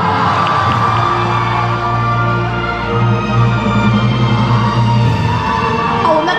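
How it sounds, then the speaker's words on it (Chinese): A large audience at the Huading Awards ceremony cheers loudly and without a break, with whoops and shouts blending into a dense, sustained roar. "欢呼声、掌声、呐喊声在哪里啊？"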